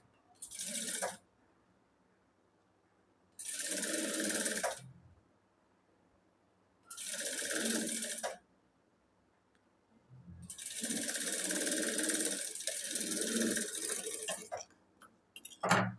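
Sewing machine stitching the cup seam of a katori blouse, running in four separate bursts of whirring mechanical chatter with quiet pauses between, close and alone.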